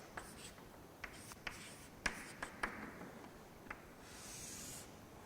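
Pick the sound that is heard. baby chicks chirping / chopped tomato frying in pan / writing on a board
writing on a board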